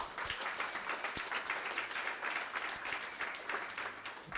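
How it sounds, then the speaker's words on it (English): Sustained applause from an audience, many hands clapping steadily and evenly throughout, a dense wash of claps heard from within the room. "Can we get a big round of applause for both of them?"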